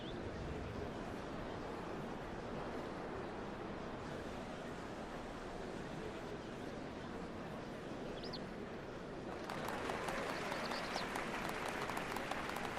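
A crowd in Final Fantasy XIV Online applauding, a dense and steady wash of clapping that stays even for several seconds and then grows brighter and louder toward the end, with no talk.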